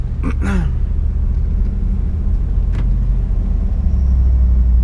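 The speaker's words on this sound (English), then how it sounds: "Sorry, I'm getting the traffic" Road traffic rumbles past a car stopped at the roadside on the route out of Maryville toward the Smoky Mountains, a steady low drone of nearby vehicles with one brief voice near the start.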